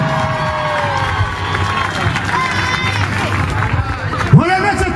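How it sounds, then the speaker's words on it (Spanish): A large carnival crowd cheers and shouts at the town's opening speech, a lively babble that stays loud the whole time. A voice rises briefly near the end. "¡Un fuerte aplauso!"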